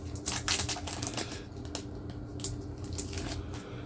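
Trading cards being pulled from a BattleTech Mercenaries salvage box, producing a close, busy run of crisp rustling and clicking card-and-cardboard sounds throughout, with no one talking.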